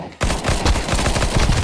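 Rapid gunfire in a Counter-Strike match, a dense burst of shots cracking close and loud for over a second after a brief quiet start, with no talking.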